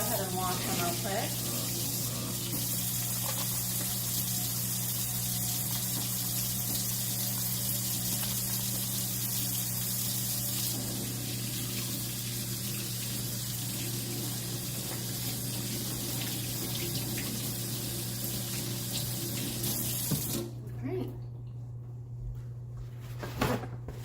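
A kitchen tap runs steadily for hands being washed, a close continuous hiss of water at a sink that cuts off near the end, with a person speaking briefly.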